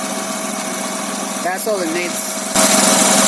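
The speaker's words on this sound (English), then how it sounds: "it runs very smooth. No check engine light. The idle's great." A 2003 Honda Accord V6 idles steadily with a smooth, even hum that has a slight exhaust leak, running under a man's brief speech before a louder, brighter noise abruptly joins.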